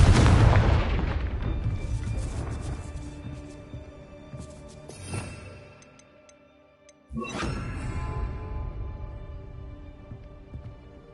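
A Confringo fire-blast spell in Hogwarts Legacy bursts loudly at the start and rumbles away, followed by a fainter hit midway and a second sharp explosive crack with a lingering ringing tail.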